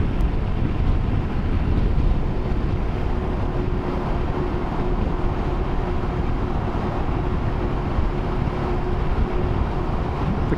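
A motorcycle rides through a road tunnel, giving a steady, dense low rumble of engine and wind roar that echoes throughout, loud and continuous with no talking.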